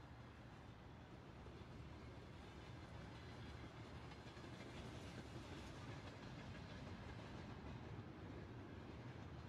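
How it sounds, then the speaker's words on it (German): A train passes in Euro Truck Simulator, heard as a continuous broad rumble with faint rhythmic clatter, steady and distant-sounding, with no talk. "Ich höre zwar die Geräusche, aber ich sehe keine Bahn."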